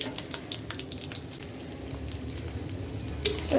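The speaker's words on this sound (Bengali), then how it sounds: "পাঁচ ফোড়ন দিয়ে দিলাম রসুন দিয়ে দিলাম বেশি করে রসুন কুচি" Garlic and five-spice seeds fry in hot oil for a star fruit pickle, giving a faint, steady sizzle with light crackles close by.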